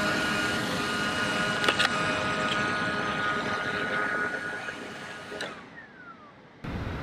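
Electric motor of a Craycle Orca V2 model aircraft with a suspected faulty ESC, whining loudly and steadily before abruptly cutting out and going quiet, then briefly starting again.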